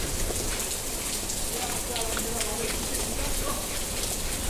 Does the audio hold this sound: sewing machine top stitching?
no